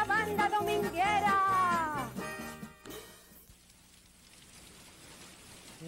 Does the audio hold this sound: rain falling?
yes